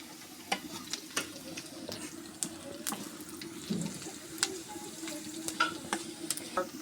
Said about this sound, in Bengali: পাঁচফোড়ন দিয়ে দিলাম